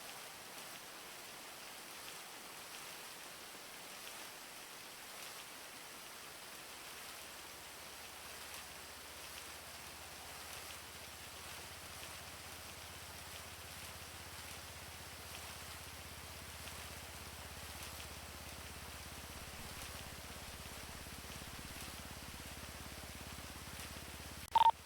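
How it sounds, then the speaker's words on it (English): Steady, faint rain hiss in the GTA NoPixel video game, an even wash of drizzle that holds unchanged for the whole stretch, with a low hum joining underneath partway through. "I can hear the rain, but I can't see the rain"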